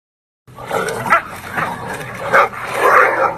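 Several dogs bark, yip and whine in a loud, close scuffle during an altercation at a dog park, with repeated bursts that swell and overlap over a few seconds.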